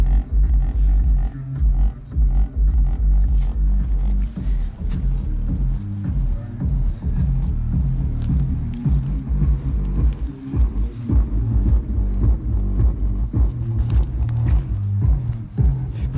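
Budget subwoofer pounding inside a VAZ 2109 car, loud throbbing bass in rhythmic pulses that rattle the cabin, steady and dense throughout.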